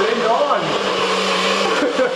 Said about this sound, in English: we're getting our blend on. It's a power smoothie.